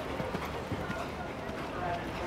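A horse galloping uphill on a cross-country eventing course, its hoofbeats soft and rhythmic beneath a commentator's continuous talk.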